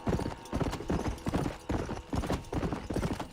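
Horse hooves galloping in Red Dead Redemption, a fast, steady clip-clop rhythm of repeated hoofbeat clusters, close and fairly loud, with faint talk underneath.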